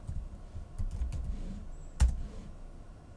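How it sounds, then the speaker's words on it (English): Typing a command on a computer keyboard, a few soft, scattered keystrokes and one sharper click in a quiet room. "So let's open command prompt and check our version. And I'm gonna type"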